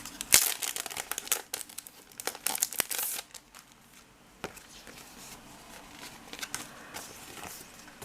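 Packaging from a subscription box of vintage-style stickers being opened, close crinkling and rustling of plastic and paper with a few sharp tearing bursts early on, then quieter handling.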